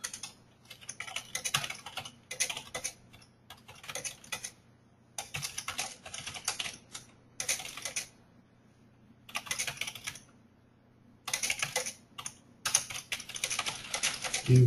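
Typing on a computer keyboard comes in bursts of rapid clicking keystrokes separated by short pauses, close and clear over a faint low hum, with no talking.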